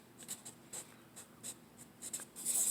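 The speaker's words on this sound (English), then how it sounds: "Let me write this here." Pen or marker strokes of handwriting while working through a logistic differential equation, a run of short scratchy strokes with brief pauses, close and quiet, no talking.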